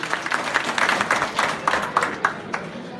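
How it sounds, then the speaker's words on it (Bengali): Audience applause at an anniversary event in Paris: fairly close clapping in uneven bursts, moderately loud, with a sparse crowd and no voices over it. "জোরে একটা করতালি প্লিজ"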